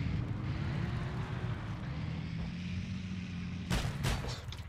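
Video game gunfire and heavy explosive booms in Heroes & Generals, with a continuous rumbling battlefield drone and a sharp burst of shots near the end.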